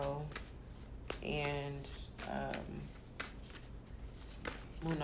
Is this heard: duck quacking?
no